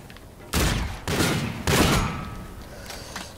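Rapid gunfire bursts from the shooter game Call of Duty: Infinite Warfare, three loud, close volleys in quick succession, then a fading tail of reverberant rumble.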